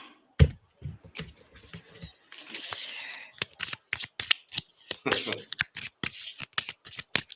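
Playing cards are shuffled in a series of quick riffles and crisp snapping bursts, close and fairly loud, with people talking at intervals in between.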